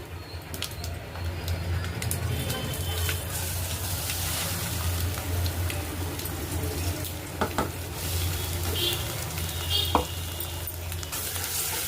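Spicy okra chutney sizzles steadily in a pan with mustard seeds, cumin and curry leaves while a spoon scrapes and stirs it, a loud continuous frying hiss with occasional sharp clicks of the utensil against the pan.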